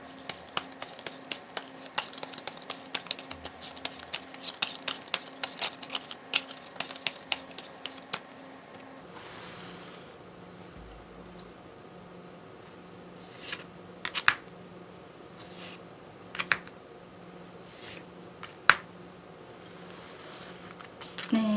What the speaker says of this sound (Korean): 카드를 섞는 동안에 이번 한 주를 보내시면서 개인적으로 궁금하신 질문을 만들어 주시면 좋을 것 같습니다